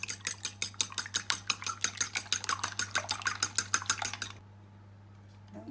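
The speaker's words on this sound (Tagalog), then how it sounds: "Haluin lang ulit natin para mag-incorporate na siya" Bibingka batter being stirred after eggs are added, a fast steady clicking of a utensil against the bowl for about four seconds that then stops, close and alone over a low steady hum.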